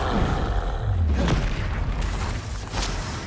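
Spell-blast booms from the Confringo fire spell in Hogwarts Legacy, a dense rumbling burst sustained through the clip with loud low-end impacts and crackling debris, played over continuous game action and no talk.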